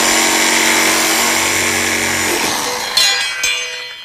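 A power tool cuts through a car's radiator core support, a loud continuous whining buzz up close that falters near the end, with a couple of sharp metallic clunks as the cut finishes.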